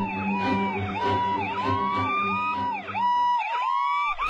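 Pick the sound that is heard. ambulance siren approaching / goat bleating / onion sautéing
ambulance siren approaching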